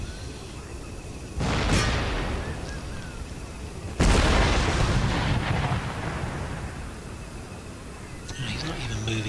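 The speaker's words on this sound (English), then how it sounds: "Okay, let's just carry on shelling them." Artillery cannons fire during a battle in Empire Total War. Two heavy booms land a few seconds apart, each with a long rumbling decay, over a steady ambient battlefield bed.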